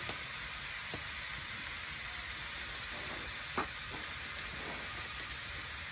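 Fajita filling of shredded meat with Cajun sauce sizzles and fries steadily in a pan, a constant hiss with a few faint clinks and a soft knock partway through.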